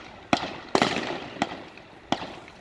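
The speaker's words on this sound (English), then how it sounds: "Look how they're shooting." Four sharp gunshots crack out during a cash heist in South Africa, heard at a distance with irregular spacing and a short echoing decay after each one.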